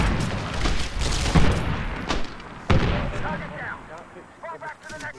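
Gunfire and explosions in the Medal of Honor Warfighter multiplayer beta, with a grenade launcher among the weapons: loud repeated booms and rapid shots in bursts, with someone talking between them.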